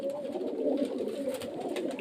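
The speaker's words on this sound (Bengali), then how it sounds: "এই যে প্রচুর পায়রা আছে পায়রাগুলো সবগুলো ছেড়ে দিয়েছে" Many domestic pigeons let loose from their loft coo in a steady, close, overlapping murmur that runs without a break.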